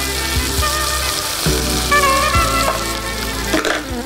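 Mushrooms and chicken sautéing in a pan, a loud, close, continuous sizzle with repeated scraping strokes of a spatula every second or so, no voices.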